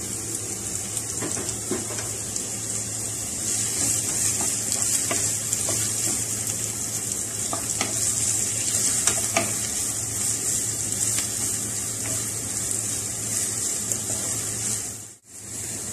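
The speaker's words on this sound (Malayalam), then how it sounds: "നമ്മൾ സവാള അരിഞ്ഞിട്ട് കൊടുക്കാം വേപ്പില പച്ചമുളക് ഇതെല്ലാം കൂടി ചേർത്ത് നമുക്കൊന്ന് വഴറ്റിയെടുക്കാം" Sliced onion, curry leaves and green chilli sauté in a pan for a cauliflower and egg thoran, giving a steady, loud sizzle with scraping stirring strokes throughout, ending with a brief drop-out.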